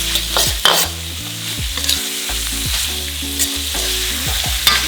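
Malaysian mee goreng ingredients stir-fried in a hot pan, with loud steady sizzling and repeated scraping strokes of a spatula, no voices.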